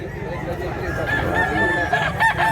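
A year-old stag (young rooster) crows at a fowl market in Mantalungon, Cebu, its call rising clearly over a steady hum of background crowd noise.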